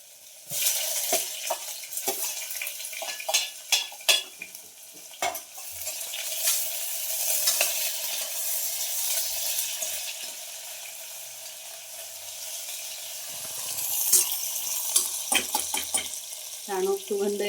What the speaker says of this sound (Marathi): आलं लसूणची पेस्ट टाकते त्याच्यानंतर कांदा टाकते बघा